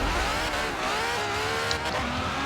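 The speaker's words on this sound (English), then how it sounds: "I'm fully gassing it right now." Ferrari 599XX Evo at full throttle in the racing game Forza Horizon 4, a loud, sustained high-revving engine roar with rising pitch and tire noise, continuous and close.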